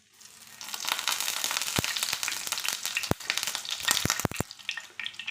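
Sliced raw plantain pieces sizzle and crackle in hot oil in a pan, a steady bubbling fry punctuated by sharp spattering pops, heard up close with no talking.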